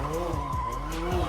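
A McLaren 720S drifts along a tight mountain road, its tires squealing and skidding in sweeping pitch glides over a loud engine drone, with a voice talking over it.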